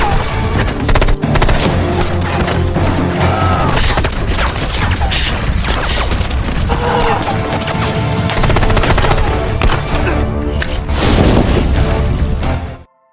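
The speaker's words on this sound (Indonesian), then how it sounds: "Setelah itu pertempuran antara anak buah Kak Hasan dan anggota polisi pun pecah" Sustained automatic gunfire and heavy shooting from a film battle between police officers and gang members, dense and loud throughout with rapid bursts, booms and crashes layered over a musical score.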